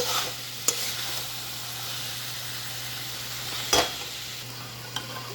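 Aloo posto, potatoes with poppy seeds, fries in a pan with a steady soft sizzle and hiss, broken by a few sharp clinks of a spoon stirring against the pan.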